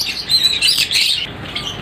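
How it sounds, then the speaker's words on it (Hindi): Small birds chirp and tweet rapidly inside a dove aviary, the high, bright calls loud and close and running continuously with no talk over them. "चिड़ियाँ भी हैं इसके अंदर, 2-3 पाकिस्तानी।"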